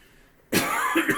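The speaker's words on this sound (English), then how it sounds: "Sorry for all the coughing." A person coughs hard and close by during a tabletop escape-room puzzle game. A quiet stretch gives way to one loud, rasping burst of coughing that runs to the end.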